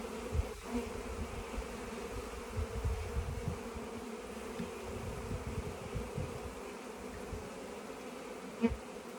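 Honey bees buzz steadily around an open hive while a weak colony is tended, a dense continuous drone with a few sharper close passes, moderately loud and without voices.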